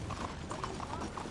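Horse hooves clip-clop in a steady, close rhythm in the Red Dead Online video game, a run of quick, even hoofbeats heard alone.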